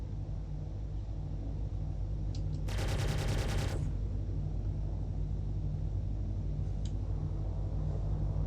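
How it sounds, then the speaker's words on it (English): Cannon fire in the space game Star Citizen: one loud burst of rapid shots lasting about a second, standing out over a steady low engine rumble and hum, with no talking. "Got cannons this time"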